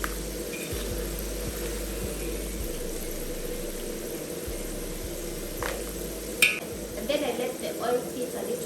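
Homemade potato fries frying in hot oil give a continuous crackling sizzle, with a few clinks and stirring scrapes of a utensil in the pan toward the end.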